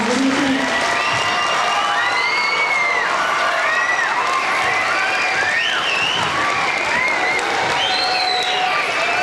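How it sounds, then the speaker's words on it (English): A school audience at an elementary third grade Christmas program bursts into sustained applause, with rising whoops and whistles from children and adults riding over the steady clapping throughout. "I think you deserve another round of applause."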